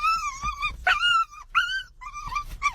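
An excited dog whines and yips close to the microphone in a run of high, wavering cries with short sharp yelps between them, and no one talks.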